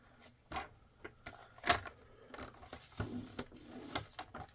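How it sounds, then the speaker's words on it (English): Card stock being scored on a paper trimmer, giving a series of short, close scraping and clicking strokes with brief sliding sounds between them, fairly quiet with no talking. "with the long side at the top of your trimmer, we are going to score at 3/4 inch"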